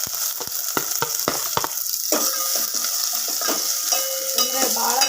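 Mustard seeds, cumin, onion and curry leaves hit hot oil in a home kitchen pan, giving a steady sizzle with quick popping crackles early on and a few clinks of a utensil against the pan.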